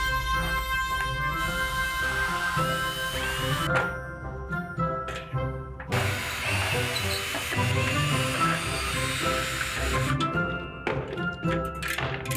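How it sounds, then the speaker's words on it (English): A power drill whirs in repeated bursts while backing screws out of an antique wooden table, with knocks and clunks of wood between runs, close and fairly loud. "I made it through about 3 screws before I switched to a drill"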